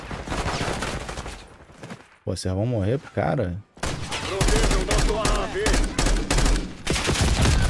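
Gunfire in Call of Duty: Black Ops 6, with dense rapid bursts of shots and explosive impacts under excited talk from a player, broken by a short stretch of music or effects.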